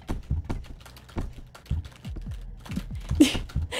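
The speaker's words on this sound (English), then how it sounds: "You guys can hear me just rapidly tapping my keyboard, can't you?" Rapid, irregular tapping on a non-mechanical computer keyboard, soft close-up clicks in quick runs, with no voice over them.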